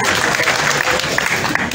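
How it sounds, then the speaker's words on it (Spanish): An audience at a public health ceremony in Yapacaní applauds steadily, a dense, continuous clapping throughout with a faint crowd murmur beneath. "Un fuerte aplauso"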